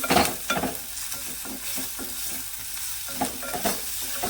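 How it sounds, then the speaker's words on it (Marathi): Prepared masala being stirred into dry prawns frying in a pan, with a steady scraping and stirring texture over a soft continuous sizzle, close and moderately loud, no voices. "आता यामध्ये ना घालणार आहे मी तयार केलेला मसाला आणि हा सुद्धा आहे ना एकत्र करून घ्यायचा आहे"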